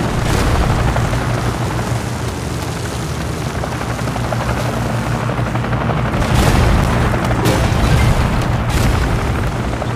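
Helicopter rotors thrum steadily amid booming explosions and rumbling destruction in a Godzilla city-smash video game, a dense, loud, continuous barrage with no talk over it.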